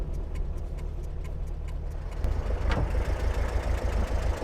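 A Model A Speedster engine idling roughly, apparently down a cylinder, with a steady low chugging pulse and irregular ticking that grows louder and fuller partway through, with no talk.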